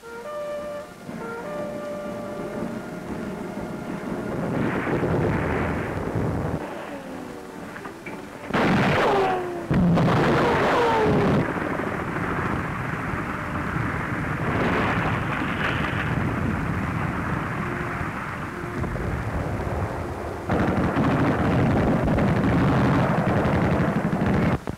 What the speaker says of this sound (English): German snipers open up on the roof of Notre Dame.